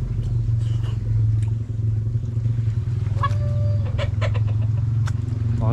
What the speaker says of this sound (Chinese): 好像大公鸡